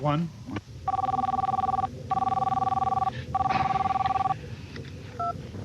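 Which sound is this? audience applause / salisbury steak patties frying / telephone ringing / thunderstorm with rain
telephone ringing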